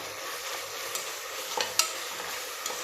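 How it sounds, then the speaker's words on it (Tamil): Ginger-garlic paste fries in hot oil in a pan for mushroom biryani, a steady soft sizzle with a few sharp scrapes and clinks of a spoon stirring, close and fairly quiet, with no talking. "இப்போ நம்ம இஞ்சி பூண்டு பேஸ்ட் போட்டுடலாம்."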